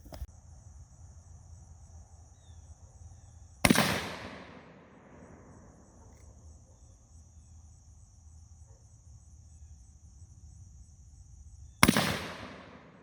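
Two sharp gunshots at target shooting practice, spaced about eight seconds apart, each a loud crack that decays quickly against a quiet outdoor background with steady insect chirping.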